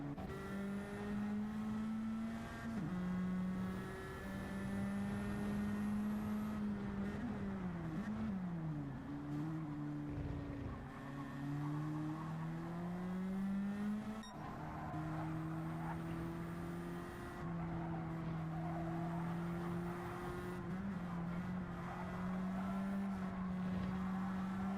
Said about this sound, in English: Can really hear those tires chattering underneath Doug Silvia right now